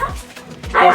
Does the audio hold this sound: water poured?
no